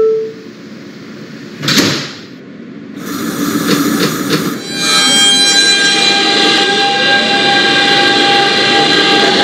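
An R160B Siemens subway train on the R line pulls away from a station in the OpenBVE train simulator game. A door chime and doors closing are followed by a loud, rising electric motor whine and the hum of the train gathering speed.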